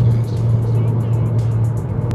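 A 2008 Dodge Caliber SRT-4 cruises at about 100 mph, giving a loud, steady low engine drone mixed with road and wind roar from inside the cabin, with no pauses.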